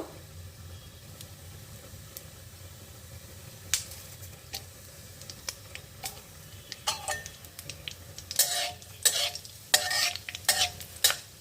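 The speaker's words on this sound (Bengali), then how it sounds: "এখানে পাঁচ ফোড়নটা দিলাম আমি এরপরে দিয়ে দেব কাঁচা লঙ্কা একটু ফাটিয়ে দেব" Panch phoron and green chillies crackle in hot oil, a low steady sizzle at first that grows into close, bursty spitting and stirring clatter toward the end, with no talking.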